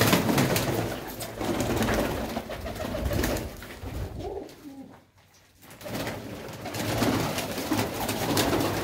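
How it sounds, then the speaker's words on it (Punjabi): An aged Kalsara pigeon with distinctive eyes coos while held in someone's hands, a steady run of soft, close coos that breaks into a brief quiet moment before resuming. "ਇਹ ਨਾ ਕਬੂਤਰ ਵੱਖਰਾ ਹੀ ਆ, ਕਾਲਸਰਾ ਕਬੂਤਰ ਆ"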